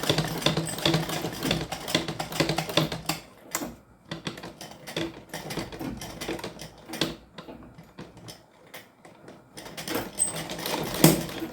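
Sewing machine slowly stitching a strong zip, with bursts of rapid mechanical needle clatter that stop and start, a brief lull partway through, close and fairly loud.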